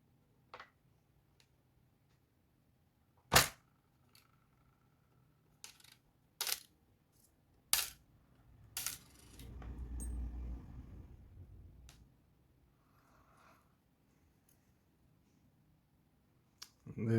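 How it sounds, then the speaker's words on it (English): Small metal parts of a Spyderco Paramilitary 2 folding knife clicking sharply as a washer goes back in during reassembly, with scattered crisp ticks and a louder handling rustle in a quiet room. "I'm gonna put our washer back."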